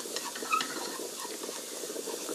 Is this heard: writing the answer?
no